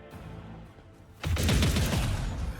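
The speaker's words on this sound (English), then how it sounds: "Sure, shoot the turret" Gunfire aimed at a turret in the game Rogue Trader bursts in suddenly after a quiet stretch, a rapid, dense volley of shots that continues with crackling impacts.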